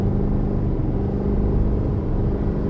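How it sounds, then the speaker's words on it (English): A 2024 Chevy Silverado 2500HD diesel truck with a 10-speed transmission accelerates, giving a steady, loud low rumble of engine and road noise heard from inside the cab with no talking. "Now, acceleration in these diesel trucks is pretty dang amazing."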